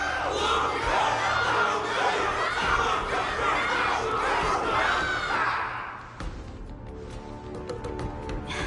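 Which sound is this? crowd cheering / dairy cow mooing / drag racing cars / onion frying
crowd cheering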